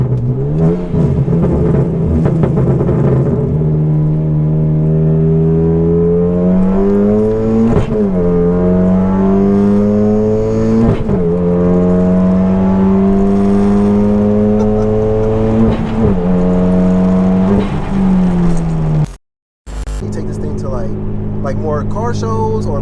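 A Hyundai Genesis Coupe 2.0T accelerates hard through the gears, its engine note climbing in pitch before each shift drops it back, loud and close from inside the car, with voices talking over it and a brief cut near the end.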